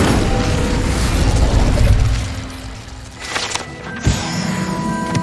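Incendio fire spell cast in Hogwarts Legacy, a loud, dense roaring burst of game effects that runs the whole time, with a sharp crack near the end and a brief mechanical rattle.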